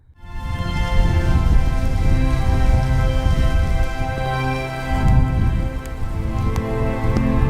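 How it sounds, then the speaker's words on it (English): Rain falls on a camping tarp at night, a steady close patter of drops over a low rumble with a few sharper taps, continuous and with no voices. "The rain tapped gently against his tarp"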